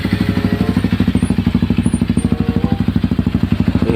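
A Honda CRF250L with a full system muffler idles close by, a loud, rapid and even single-cylinder thump with strong, regular pulses.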